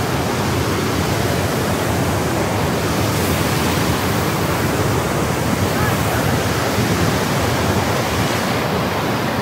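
Iguazu Falls roars as a steady, loud, unbroken wash of falling water, close and dense throughout, with a brief exclamation from a person over it.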